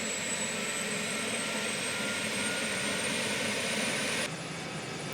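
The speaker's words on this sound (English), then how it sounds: "I just love the sound of a helicopter spooling up." A helicopter engine spooling up: a steady, loud turbine whine with a high tone rising slowly over a broad engine roar, which drops slightly near the end.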